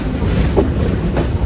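Local shuttle train running between Poradah and Goalanda Ghat, passing at Poradah Junction, heard as a loud, continuous close rumble of rolling wheels with faint rhythmic clatter and wind.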